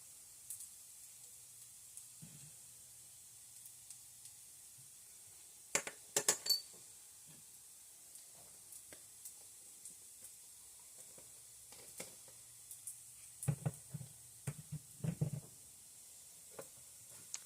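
Ground ginger is stirred into kung pao bacon frying in a pan, a steady soft sizzle with scattered scraping clinks and taps from the utensil, close and fairly quiet.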